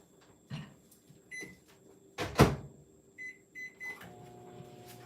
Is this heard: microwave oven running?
yes